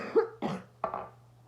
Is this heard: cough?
yes